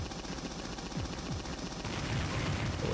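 Rapid, continuous Uzi gunfire from the Jazz Jackrabbit video game, a dense rattling burst of retro game shots running steadily throughout, fairly quiet and with no talking.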